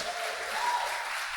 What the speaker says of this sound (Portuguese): Uma salva de palmas, Valtair